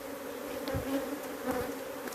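Honeybees swarming around an open hive during an inspection, a steady droning hum with individual insects buzzing past close by, fairly faint overall.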